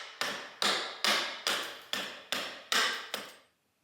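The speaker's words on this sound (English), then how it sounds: "I like to use a hatchet or a machete for the early wood removal because it moves material much faster than a rasp." Hatchet chopping wood to rough out a kid's bow, seven crisp, evenly spaced strikes close by, each a sharp impact fading quickly before the next.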